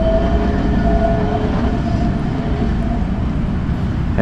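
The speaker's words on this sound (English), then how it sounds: "And there's the little metro," A small coastal metro train near Athens rolls past steadily, a continuous loud rumble with a faint tonal whine, heard alone without talk.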